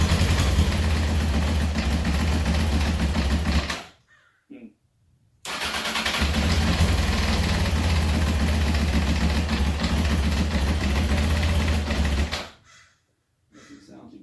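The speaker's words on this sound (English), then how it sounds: "Idle's a little too low." A 1993 Honda CBR900RR California-spec motorcycle engine idles low and rough, loud and close. The steady rumble cuts out twice into near silence, and a voice is heard along with it.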